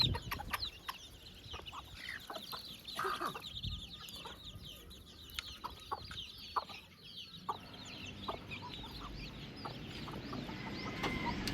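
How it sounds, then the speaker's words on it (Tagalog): Rhode Island Red chickens cluck steadily in a farm flock, with overlapping calls near and far and a few sharper squawks over light background noise. "Bumili ako ng 20 na Rhode Island Red na chicken."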